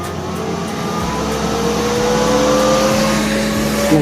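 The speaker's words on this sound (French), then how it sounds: "On démarre la pompe." Solar-powered well pump starting up at an installation in Morocco, a steady loud motor drone with a rising tone held evenly throughout.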